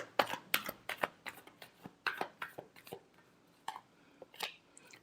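Tarot cards being shuffled by hand, a series of close, crisp riffling and flicking bursts with short pauses in between, quiet and without talk.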